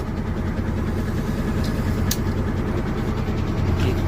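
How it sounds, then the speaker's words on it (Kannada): A loaded truck's diesel engine pulling away on a long haul, a steady loud low rumble and drone throughout with no speech. "ಇಲ್ಲಿಂದ ಗಾಡಿ ಮೂವ್ ಮಾಡೋಣ"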